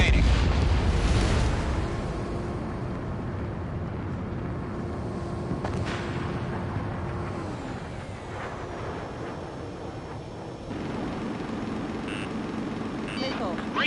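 Incoming-missile warning tone in the Ace Combat 7 jet combat game: a steady electronic alarm held for several seconds over roaring jet engine and wind noise, with a voice speaking over it.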